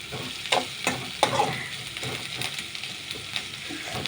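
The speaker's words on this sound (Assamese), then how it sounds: "এতিয়া ঢালিম পিঁয়াজ" Onions sizzle in a modest amount of hot oil, a continuous close crackle broken by several sharp stirring clatters and scrapes as they are turned in the pan.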